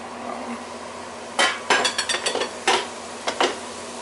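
Onions going into a greasy pan for cooking vegetables, with a run of sharp utensil scrapes and clanks against the pan in short bursts over a faint steady background, no talking.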